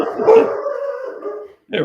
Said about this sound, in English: dogs are agreeing